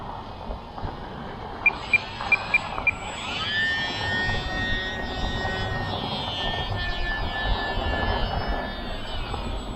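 A Horizon Hobby Champ S+ RC model airplane flies tight turns, its small electric motor giving a steady, thin whine with a rising pitch sweep, under broadband wind rush and a few brief clicks early on.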